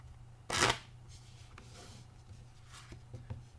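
A deck of playing cards in new deck order gets a false cut, producing one brisk riffling burst near the start followed by a few soft, faint taps and handling sounds, with no talking.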